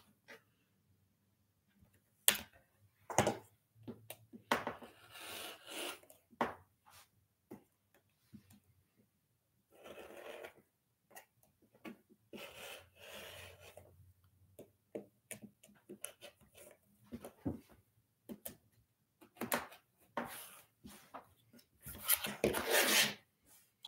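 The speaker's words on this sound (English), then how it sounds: "I got to stand up to do the trimming" Fabric quilt block trimmed with a rotary cutter or scissors for a pinwheel sawtooth star, heard as scattered sharp rasping cuts and rubs in irregular bursts, fairly close and alone.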